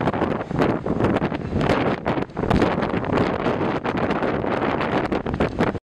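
Strong gusting wind during a storm with heavy rain in Bodrum, roaring and buffeting loudly against the microphone in continuous surges with brief dips, no voices.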